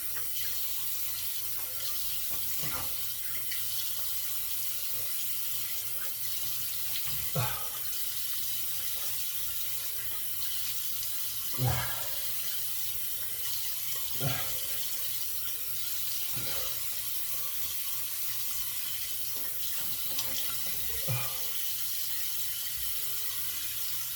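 Tap water running steadily to rinse the face of a razor after a shave with an aluminum double-edge safety razor, a constant close hiss broken by several brief knocks and splashes spaced a few seconds apart.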